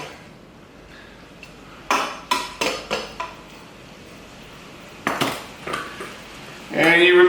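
Shrimp scampi pasta is tossed in a pan of sauce, heard as two quick runs of close metallic clanks and scrapes separated by a quiet pause, then a louder rattle at the end.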